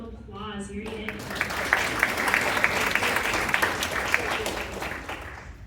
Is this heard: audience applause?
yes